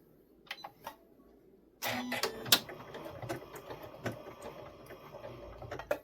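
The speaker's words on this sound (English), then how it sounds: "I'm going to do a locking stitch at the beginning here, sew to the end, and end with a locking stitch" A sewing machine stitches fabric strips, starting abruptly after quiet handling noises and then running as a close, rapid mechanical chatter with small clicks and knocks throughout.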